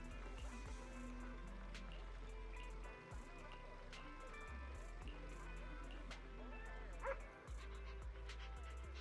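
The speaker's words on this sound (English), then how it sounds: "Huskies are such a noisy dog type. They talk a lot." Husky dog in a video game barking, yipping and whimpering in short, scattered bursts over a steady low game hum, fairly quiet, with a voice talking at times.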